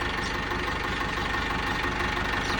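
A tractor engine idles nearby in a paddy field, the tractor sunk in the mud, with a steady, low, throbbing rumble and no voices.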